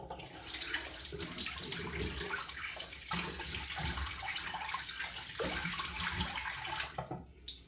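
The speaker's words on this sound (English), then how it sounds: "Rinse the face once more with cold water this time." Tap water runs steadily and close by as a face is rinsed with cold water at a bathroom sink after a shave with a double-edge razor, a continuous splashing rush that fades near the end.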